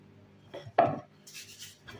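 A knife cuts food into small pieces on a board with a couple of quick, close chopping knocks, followed by a softer scraping rustle, with no talking.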